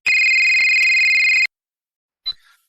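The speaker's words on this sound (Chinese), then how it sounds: "打完120后，我给住在隔壁小区的儿子打了电话。" A telephone rings out in a loud, steady electronic tone lasting over a second, then stops, followed by silence and a brief short electronic blip.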